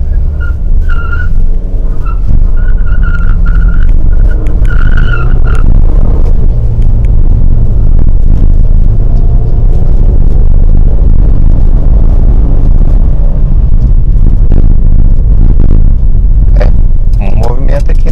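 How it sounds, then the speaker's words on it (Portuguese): A Ford car with a PowerShift transmission pulls away from a stop using Hill Assist, its engine rumbling low and steady beneath someone talking almost throughout. "Então vou fazer uma arrancada normal com Hill Assist."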